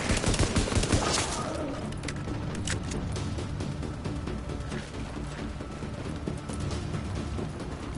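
Pistol gunfire in The Division, a steady barrage of sharp shots layered over a busy battle din with explosions and other weapons, continuous and fairly loud throughout, with nobody talking.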